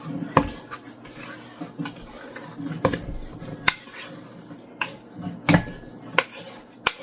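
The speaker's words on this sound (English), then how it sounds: "All I'm going to do is stir it up and mix it some more" A spoon scrapes and clinks against a bowl while a Valentine treat mixture is stirred and mixed, making irregular metallic taps and sharper clanks between softer rubbing scrapes, close and clear with no talking.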